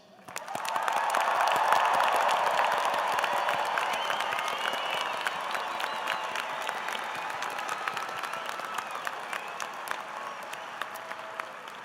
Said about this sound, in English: ask the audience to recognize your achievement once again with applause